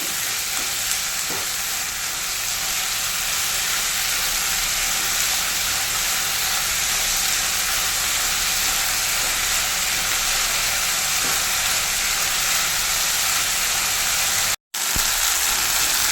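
Tomato and onion chutney fries with salt in a pan, a steady loud sizzle and hiss under repeated stirring scrapes, close and continuous with a brief cut near the end.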